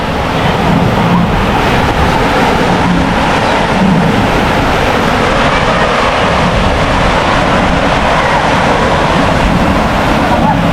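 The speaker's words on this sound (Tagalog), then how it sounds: "Ayun ang alon." Sea waves break on the beach at Lingayen, a loud, continuous surf roar with broad rushing noise that swells slightly in places, heard close and steady without a clear pause.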